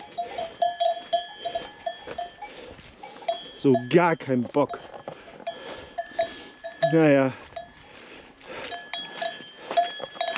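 Cows wearing cowbells out in a pasture, their bells clanking in an irregular rhythm throughout, with a couple of nearby lowing or bleating animal calls and brief talking over the top.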